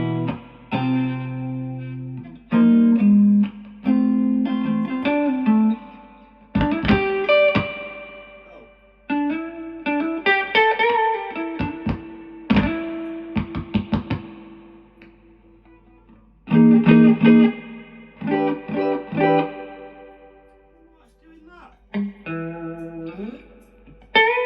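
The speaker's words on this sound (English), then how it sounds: "That reverb's really nice." Electric guitar played through a restored Laney Tube Fusion 300 tube amplifier with reverb. Ringing single notes and chords come in bursts separated by short pauses, and each decays into a lingering reverberant tail.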